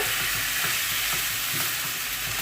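Ground turkey sizzles steadily in a pan over low heat on a stove while a utensil stirs it, scraping with soft, irregular knocks under a constant hiss; no talking.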